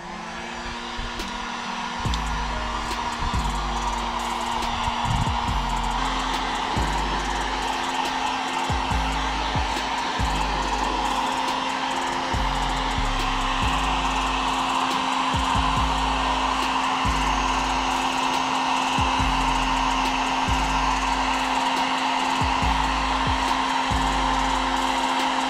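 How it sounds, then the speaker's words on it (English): A heat gun blows steadily and loudly over freshly sprayed red wrinkle paint, a continuous airy roar with a constant motor hum running unbroken throughout. "All right, gonna hit it with the heat gun again."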